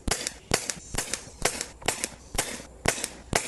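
An Umarex Gauntlet 2 .25 caliber PCP airgun fires in rapid succession, about eight sharp cracks, each followed by a quick second snap, evenly spaced and close, with no talking.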